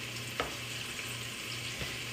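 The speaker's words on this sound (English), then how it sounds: "I'm going to give my thing a quick stir, because I don't want my garlic to burn, so I want to mix it up and coat my onions all the way" Onions and garlic fry in a pan for a cottage pie, a steady close sizzle with a couple of brief stirring scrapes and no talking.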